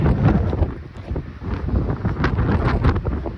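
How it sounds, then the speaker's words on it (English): Strong wind gusting across the mic on a Mount Whitney mountain trail, a loud buffeting low roar that swells and dips in irregular waves, with no voices. "The wind is starting."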